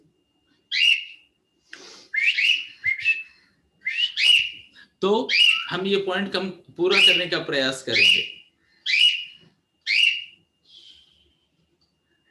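Pet bird whistling in repeated short, high bright phrases, roughly a dozen bursts spread evenly through the passage, near and clear, with someone talking under the middle stretch.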